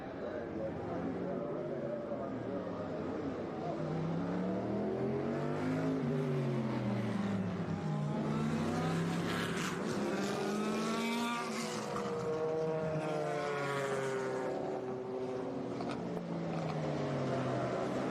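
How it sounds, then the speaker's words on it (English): Vintage endurance race cars from IMSA, ALMS, Grand Am, FIA and World Challenge fields roar past on track at a Monterey motorsports reunion, a loud continuous engine drone with rising and falling pitch sweeps as cars pass, with commentary over it. "as you can hear and probably start to see, the roar of what is our next group, the Scott Pruitt Legends of Endurance"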